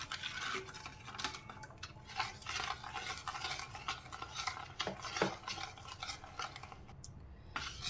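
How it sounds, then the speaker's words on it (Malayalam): A small spoon stirs sugar into watermelon mint juice, giving faint, continuous swishing and light scraping against the container, quiet and close with no voices. "ഇനി നമുക്കിത് ഇളക്കി മിക്സ് ചെയ്യാം."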